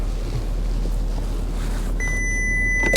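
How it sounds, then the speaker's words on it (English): A steady electronic warning beep from a Volkswagen Phaeton rises over a low engine-like rumble, starting partway through and continuing to the end, fairly loud and close. "incessant beeping"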